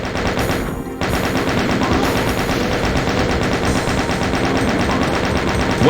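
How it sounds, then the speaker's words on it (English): Rapid, continuous gunfire from the DOOM Eviternity video game blasts almost without pause, dense and loud, with overlapping shots and a brief dip near the first second. "What else is shooting to my left that I am hearing?"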